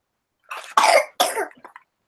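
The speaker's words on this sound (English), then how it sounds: "Oh no, coughing." A short fit of three or four harsh coughs, close and loud, with no talking.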